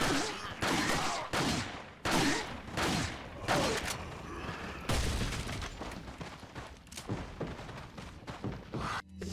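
Rapid pistol gunfire from Resident Evil 4, loud repeated shots in uneven bursts with heavy thumping impacts, close and dominant throughout, with no talking.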